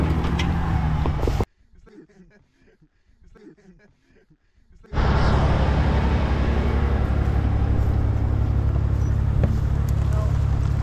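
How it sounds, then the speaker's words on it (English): A front-wheel-drive car drives on snow in Alaska with a loud, steady broadband roar, interrupted by a quieter stretch where people talk before the roar returns. "we're gonna try to slide this car"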